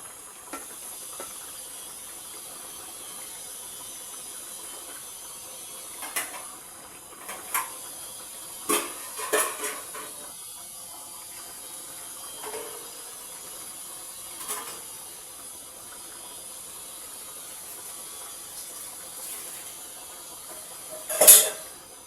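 Fish fries in a pan for a bhuna dish, giving off a quiet, steady sizzling hiss with scattered sharp pops and spatters, heard up close with no talking.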